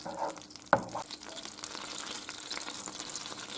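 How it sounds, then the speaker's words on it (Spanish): Butter melts in a pan with a faint, steady sizzle and crackle, close and quiet, interrupted by a single sharp clink of a utensil near the start. "Se está deshaciendo la mantequilla."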